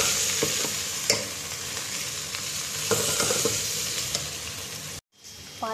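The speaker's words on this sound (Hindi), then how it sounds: "3 मिनट तक इसको फ्राई करना ताकि उसका पानी खुश्क हो जाए" Okra sizzles and fries steadily in a pan for several seconds, with scraping stirs as it is moved about, then a brief quiet break before the frying resumes.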